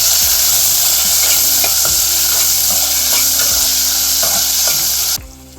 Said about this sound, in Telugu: ఉల్లిపాయలు కట్ పచ్చిమిర్చి కట్ చేసుకొని పెట్టుకున్నాం కదా అది వేసేసుకొని కలుపుకోవాలి వేయించుకోవాలి ఇలాగ